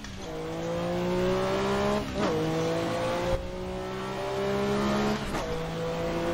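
A Group C race car at Le Mans in Assetto Corsa brakes hard from high speed, its loud engine note stepping down through several downshifts with sharp gear-change blips, running continuously and close without talk.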